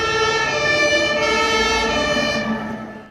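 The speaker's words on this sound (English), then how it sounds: "Miss Rabbit puts on the siren" A cartoon fire engine siren wailing steadily and loudly nearby, its sustained tone holding before starting to fade at the end.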